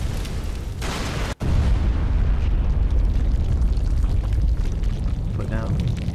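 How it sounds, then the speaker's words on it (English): Heavy missile explosions in the Battle: Los Angeles video game, a deep rumbling blast roaring continuously after a brief cutout, with a voice talking over it near the end. "There's the first missiles."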